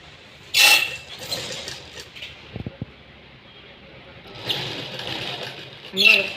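A sewing machine putting a few stitches into a four-tuck blouse: short mechanical whirring bursts separated by quiet pauses, with faint handling creaks in between.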